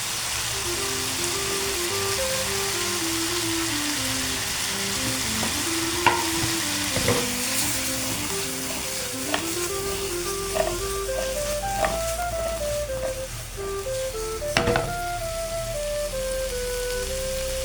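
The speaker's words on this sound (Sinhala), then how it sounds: "කලින් අපි පොඩියට කපාගත්ත බඩිරුණු කෑලි ටිකත් ඒකට එකතු කරලා අපි ඒක හොඳට කලවම් කරගමු" Chopped corn pieces frying in a pan while being stirred, a continuous sizzle with intermittent sharp scrapes and clicks of the utensil against the pan.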